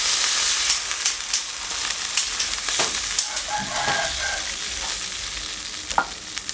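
Beef pieces sizzle loudly in a pan for a Thai red curry made without coconut milk as water goes in, and a constant frying hiss runs under intermittent clinks and stirring scrapes at close range.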